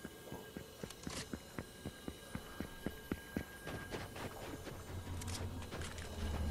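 Enemy players' footsteps in Fortnite: a steady run of soft, evenly spaced steps, faint and close, with a low hum rising beneath them toward the end.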